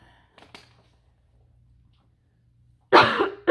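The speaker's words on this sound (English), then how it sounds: "sorry, I'm coughing." A single person coughs once, a short loud burst at the end after near silence, with a faint throat noise earlier.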